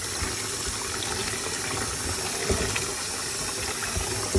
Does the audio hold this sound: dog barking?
no